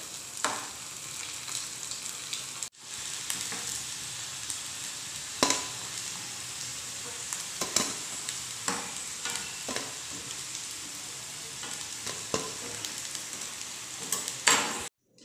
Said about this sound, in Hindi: सेम तरीके से इसे भी चारों तरफ से अलट पलट कर फ्राई कर लेना है मीडियम फ्लेम के ऊपर।